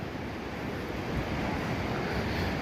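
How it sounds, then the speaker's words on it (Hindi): A river flowing near a winter campsite on the Kedarkantha trek in Garhwal, a steady broadband rushing wash, faint and continuous, with no voices. "रात भर नदी की आवाज़ आती रही, इस तरह से आपको भी आ रही होगी हल्की हल्की।"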